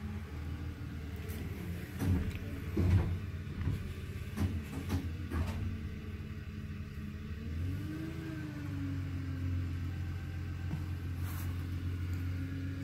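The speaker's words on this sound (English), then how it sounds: "So now the truck's moving up towards the thing." A truck grinding up a hill near a barn site, a low steady engine drone that rises in pitch as it works harder and then settles, heard from a moderate distance with faint clanks and no one talking.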